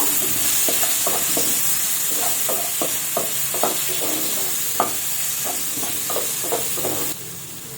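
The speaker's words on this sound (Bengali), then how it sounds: "কেটে রাখা পেঁয়াজ কুচিগুলো দিয়ে একটু আমি ভালোভাবে কিন্তু নাড়াবো" Chopped onions fry and get stirred in a pan for a Bihari-style egg dish, a constant close sizzle broken by a regular run of spoon scrapes, each a second or less apart, with no talking.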